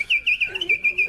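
A person whistles an imitation of a nightingale's song, a run of bright trilling chirps and warbles in quick phrases, close and clear, with a brief lower swooping note in the middle.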